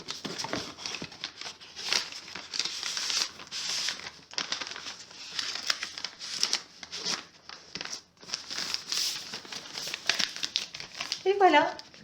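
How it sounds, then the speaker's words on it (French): A handmade card is slid into a square paper envelope, with close crinkling and rustling paper handled in bursts over about twelve seconds, while a person talks throughout. "Je vais pouvoir y glisser ma petite carte précédemment réalisée."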